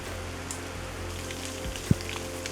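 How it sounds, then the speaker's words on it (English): Wind-blown rain drifts in off the lip of a rock climbing cave, a steady soft patter and hiss with one brief louder drop, no voices. "There's a bit of like rain being blown in off the lip of the cave."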